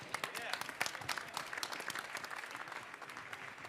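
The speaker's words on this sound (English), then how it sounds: "Let's give him a round of applause." A crowd applauds at the 2015 World Barista Championship in Seattle, a dense spread of clapping with sharp individual claps standing out, fairly faint overall, with voices mixed in beneath.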